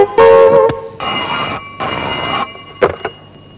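A telephone rings in two long, buzzy bursts in a Tamil comedy film scene, loud and close, with brief clattering sounds before and after the rings.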